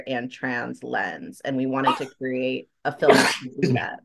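One person sneezes once, a short explosive burst that cuts into a stretch of steady talking by a speaker nearby.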